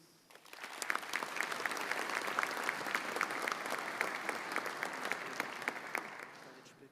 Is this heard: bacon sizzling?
no